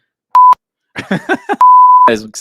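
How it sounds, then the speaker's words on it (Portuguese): Two electronic censor bleeps, a short one then a longer sustained tone, with someone speaking briefly between them. "Aquele apito para cobrir palavrões e afins"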